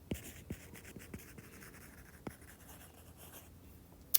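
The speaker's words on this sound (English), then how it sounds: "I'm just going to write that down" A pen writing on paper at close range, quiet scratchy strokes with soft taps at irregular intervals and a sharper click near the end; no talking.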